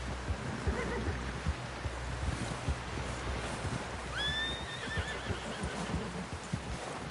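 A horse in the Red Dead Redemption 2 video game gives a clear, high whinny midway, with steady hoof clip-clop and soft ambient noise throughout.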